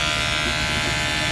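A fuel injector sprays on a test machine, producing a loud, constant high buzzing hiss that holds steady throughout, close and without pauses.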